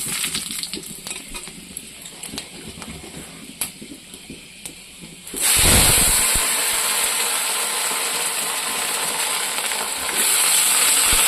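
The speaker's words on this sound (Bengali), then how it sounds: "শুকনো লঙ্কা দিয়ে দিয়েছি, এখানে দিয়ে দিলাম 5 ফোড়ন, এখানে দেবো তেজপাতা" Dry red chillies, five-spice seeds and a bay leaf crackle in hot oil, faint and sparse at first, then a loud, dense sizzle bursts in and holds close, with no speech.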